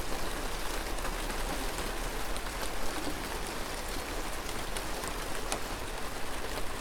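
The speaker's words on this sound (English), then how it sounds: "That's a lot of rain." Heavy rain pouring during a winter storm, a dense, steady hiss of drops spattering on surfaces with scattered closer drips, continuous and fairly loud with no voices.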